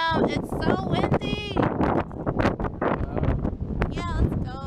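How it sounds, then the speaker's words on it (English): Strong beach wind buffets the microphone in heavy, gusty rumbles, with voices and chatter mixed in throughout. "Damn, it's so windy."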